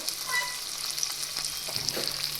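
Sliced carrots and green chilies fry and get stirred in a pan for a Gujarati gajar marcha sambharo, giving a steady close sizzle with light scraping.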